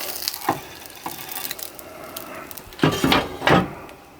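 An egg sizzles in fat on a shovel over heat while being turned for a fry-up, a steady frying hiss broken by scraping and clinks of a utensil against the metal, growing louder toward the end.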